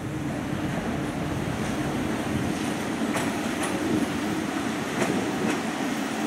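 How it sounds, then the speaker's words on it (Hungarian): A passenger train rolls into Budapest Keleti station with a steady rumbling roar, clickety-clack of wheels over rail joints and faint squeals, loud and continuous throughout. "S80-as személyvonat érkezik Gödöllő felől a 12. vágányra."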